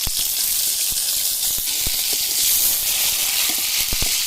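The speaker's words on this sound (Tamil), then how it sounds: "பூண்டு வெங்காயம் போட்டாச்சு. இதை வதக்குவோம்." Steady hissing sizzle of garlic and onion sautéing in a hot pan, close and fairly loud, with scattered pops and crackles throughout.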